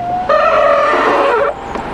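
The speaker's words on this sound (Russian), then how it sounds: "понравились эти звуки. Мерседеса, однако." A Mercedes CLK with a failing engine, broken gearbox and faulty exhaust gives a sharp, tonal screech that holds for over a second and then cuts off. The sound is loud and close, with no voices.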